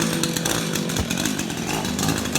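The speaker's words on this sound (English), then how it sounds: "I'm gonna cut some firewood" A chainsaw cuts firewood at a backcountry elk hunting camp in Idaho, its engine a loud, steady, close-up buzz that holds without pause, with no voices.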